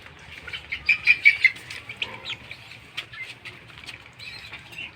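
Pigeons, including young birds kept in sunlight while treated for a cold, flap their wings in a quick burst of four or five loud beats nearby, followed by softer scattered flutters and faint chirps.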